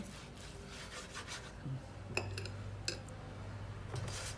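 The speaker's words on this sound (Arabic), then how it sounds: "نمسح منيح الزبدة مشان ما يلزق" Butter being rubbed over a baking tray, heard as a faint, soft rubbing and scraping with a few light metallic clinks, close by and without talk.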